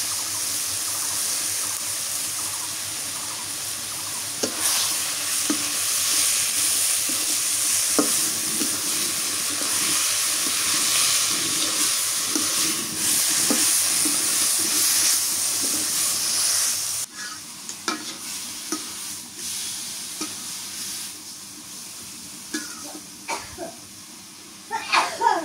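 Potatoes with dried fish being sautéed in a pan in a village kitchen, a steady sizzle with repeated stirring scrapes throughout, growing quieter partway through; a voice talks intermittently over the cooking.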